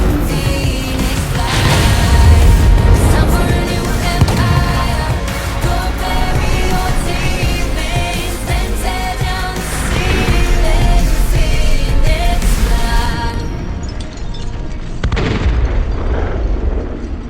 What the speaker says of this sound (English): Here we go, the second time we blow up Bamborough.